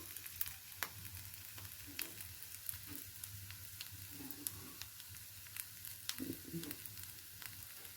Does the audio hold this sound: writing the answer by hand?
no